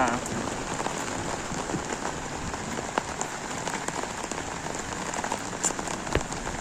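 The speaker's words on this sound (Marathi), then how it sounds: "पहिलो पाऊस ना गावचो" Heavy first monsoon rain falls steadily on surfaces in a village in Devgad, a dense continuous patter with scattered sharper drops, close and loud throughout.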